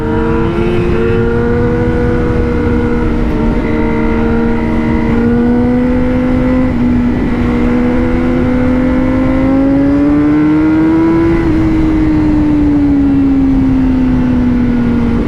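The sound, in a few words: Honda CBR1000RR-R Fireblade SP motorcycle engine accelerating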